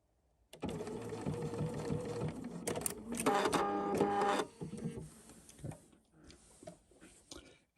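Sewing machine stitching a welt pocket, running in a steady continuous whir for several seconds, briefly speeding up, then stopping, followed by faint handling clicks and fabric rustle, close by.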